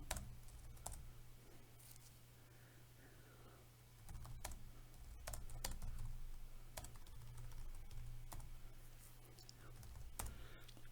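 Rapid keyboard clicks patter through a chess match session on a computer, sharp close taps in uneven bursts over a steady low hum, with faint background murmur.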